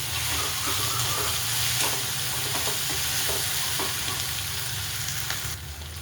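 Green chilies fry in hot oil in a home kitchen pan, with no garlic added. A continuous loud sizzle and hiss holds steady throughout and eases slightly at the end.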